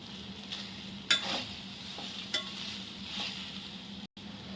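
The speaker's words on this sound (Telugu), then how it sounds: "గోంగూర కూడా బాగా ఫ్రై అయిపోయింది" Gongura leaves fry in a pan with a soft, steady sizzle, while a spoon scrapes and stirs in a few distinct strokes, all fairly quiet and close.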